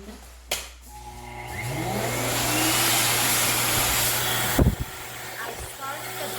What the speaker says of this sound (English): grab the grooming dryer